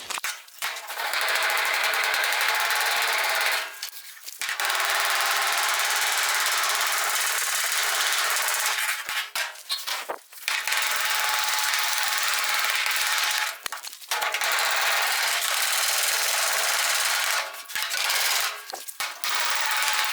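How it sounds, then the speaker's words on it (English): Rapid metallic hammering on a 1974 Dodge Charger's sheet-metal body, with a dolly held inside, rattles on in long loud bursts, broken by several brief pauses. "I'm putting the dolly on the inside, plenishing the outside."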